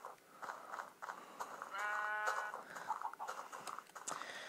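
A Minecraft sheep bleats once in a short, buzzy, vibrato-like baa amid game sounds and soft footsteps, fairly quiet with no speech.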